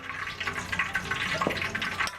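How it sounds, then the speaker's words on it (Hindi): Water trickling in small pours into a bowl of gram flour batter for chilli pakoras, a soft close splashing and dribbling that comes and goes in short bursts. "पानी थोड़ा थोड़ा करके पानी डाल देंगे"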